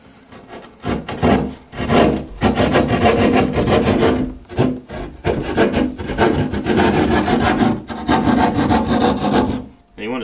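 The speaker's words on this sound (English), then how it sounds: "And cut the hole as big as you need it." A hand saw rasps through a wall with wood studs to open a hole for a computer network jack, in loud, close back-and-forth strokes broken by short pauses.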